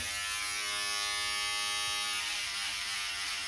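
An electric hair clipper fitted with a 1.5 mm guard trims the top of a beard. It gives a loud, close, continuous buzz that barely changes over a few seconds.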